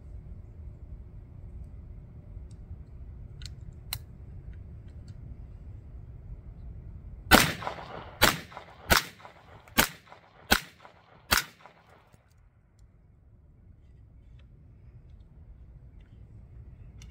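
Six sharp BinTac S45 air rifle shots fired at pumpkins at short range, cracking out alone in an evenly spaced rapid string after a quiet stretch, each a loud crisp snap.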